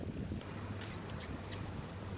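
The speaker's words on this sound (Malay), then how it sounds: "menggunakan bot berkuasa 2 enjin" A twin-engine powered boat travelling at sea off Kunak, Sabah, in the Sulawesi Sea, giving a steady low engine drone mixed with rushing wind and water noise throughout.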